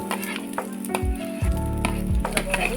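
Grated egg keema fries in a pan as a spoon stirs through it, giving steady close sizzling broken by scraping strokes, with no talk.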